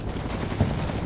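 Machine gun fire in the WWII tactics game Combat Mission: Battle for Normandy, heard as a low, muffled, continuous rattle of distant bursts with a slightly stronger thump just past the middle.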